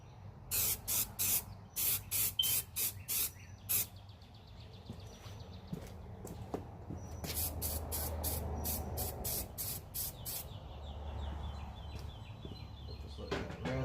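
Spray coating hisses onto sanded bare metal on a car firewall in a run of short, sharp bursts, then a longer continuous spray, close and fairly loud.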